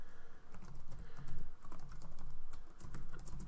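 Steady computer keyboard typing while entering an SQL Server query, a continuous run of close, quick key clicks with no voice over them.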